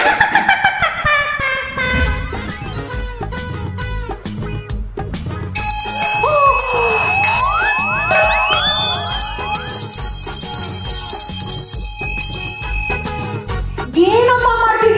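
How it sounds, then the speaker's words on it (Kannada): A bell rings with sustained, shimmering metallic tones meant to give off soothing vibrations, its bright ringing overtones building and lingering over a busy background for several seconds. "ಇದು ಕಾಲಿಂಗ್ ಬೆಲ್ ಅಲ್ಲ, ಗುಡ್ ವೈಬ್ರೇಷನ್ಸ್ ಕೊಡುವಂತಹ ಸೌಂಡ್ ವೇವ್ಸ್ ಇರುವಂತಹ ಬೆಲ್ಲು"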